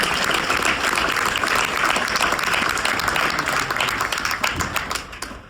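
An audience breaks into a round of applause after a parents' congratulatory letter is read aloud, with dense, steady clapping that stays loud and even before tapering off at the end.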